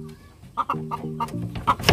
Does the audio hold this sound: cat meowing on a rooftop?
no